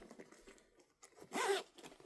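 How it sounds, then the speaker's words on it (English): A zipper on a sewn crossbody bag is pulled open in one short rasping burst, close and fairly quiet, after some faint handling rustle. "I'm gonna open my zipper so that it can dangle out of the way more"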